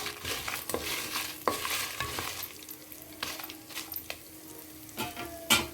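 Dry red chillies and sesame seeds sizzle and crackle in a pan for coriander chutney, with steady frying hiss and intermittent scraping stir strokes of a spoon against the pan, close and moderately loud, no voices.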